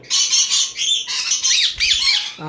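A pet parrot at a bustling Lamatiya bird market lets out a run of loud, harsh squawks, close and repeated, with short breaks between the screechy bursts and no talking.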